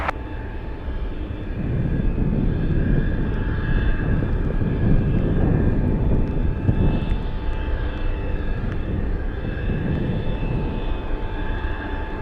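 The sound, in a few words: heavy cargo aircraft landing on runway 15 at Anchorage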